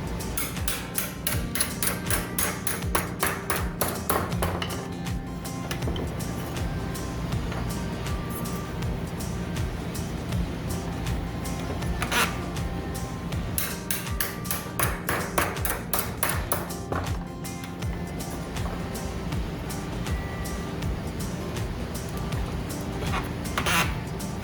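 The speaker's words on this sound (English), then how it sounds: "using a hammer, I will bend them all into a 90-degree angle" A hammer strikes metal bands clamped at a workbench to bend them to a 90-degree angle, giving repeated sharp metallic pings in bursts of quick blows, close and loud over a low background hum.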